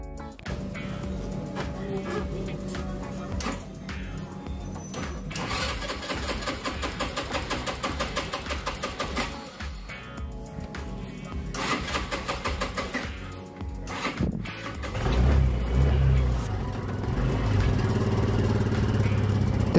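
A Peugeot Django scooter engine with carbon buildup on the piston is cranked, then runs and revs unevenly, its loud, rough note swelling and dipping before settling into a steadier, heavier drone near the end.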